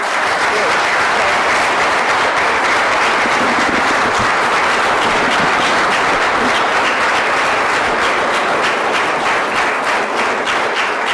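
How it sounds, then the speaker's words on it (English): Loud, sustained audience applause for the candidates at a local election debate, a thick wash of many hands clapping at once, steady and unbroken from start to finish. "How about a round of applause for all?"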